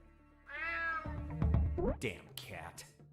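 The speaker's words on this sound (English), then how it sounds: "Damn cat." A short, clear cat meow in a video game, a single rising call followed by game sounds and a voice.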